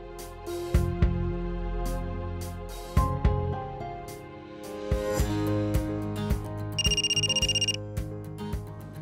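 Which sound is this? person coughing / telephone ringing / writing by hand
telephone ringing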